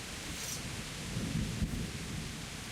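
Steady heavy rain with a low thunder rumble in Kingdom Come: Deliverance, a dense hiss of rainfall with a deeper roll swelling midway and no talk.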